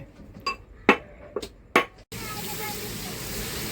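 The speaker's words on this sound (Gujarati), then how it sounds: "કંકોડાના શાકનો વઘાર થાય છે" A few clinks and taps of a utensil, then a sudden loud sizzle as spices hit hot oil for a spiny gourd curry and keep crackling steadily.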